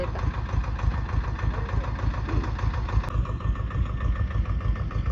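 A tractor engine idles nearby during ground levelling, with a steady, rapid low chugging that continues unchanged throughout.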